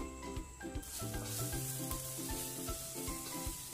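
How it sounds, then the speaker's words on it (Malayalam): Onions for a restaurant-style mushroom masala curry sauté in a pan, a steady close sizzle with the scrape and clatter of stirring at a regular rhythm. "ഈ കറിക്ക് സവാള നന്നായിട്ട് വഴറ്റിയെടുക്കണം."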